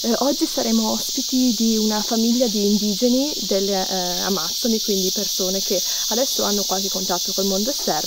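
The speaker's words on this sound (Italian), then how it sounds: "Scusate il rumore degli insetti, ma sono cicale e la giungla è molto rumorosa." Cicadas drone loudly and steadily through the Amazon jungle, a dense high-pitched buzz that never lets up while someone speaks at length over it.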